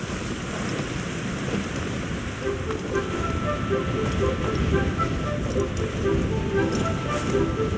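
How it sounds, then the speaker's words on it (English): Heavy rain downpour in the video game Genshin Impact, a steady dense hiss of falling water throughout, with game music or tones faintly layered over it. "Taking a stroll in the middle of a downpour certainly rouses the spirit."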